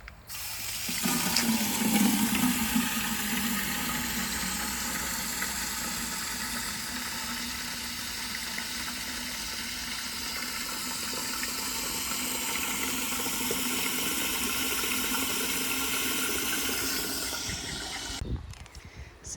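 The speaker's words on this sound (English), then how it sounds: "I've come out to water the plants in our little garden bed" Water running steadily from a hose or tap onto plants in a small garden bed with petunias and herbs, a continuous close hiss and splash lasting most of the time before stopping abruptly near the end.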